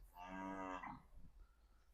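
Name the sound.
cow mooing in the background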